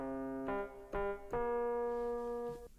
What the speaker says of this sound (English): I've chosen the preset Rhodes piano, and then added some reverb on it to make it sound like this.